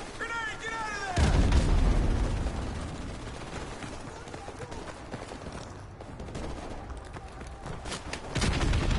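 A heavy boom from a grenade blast in Modern Warfare Remastered, followed by scattered gunfire and a second loud burst near the end, with a voice speaking early on.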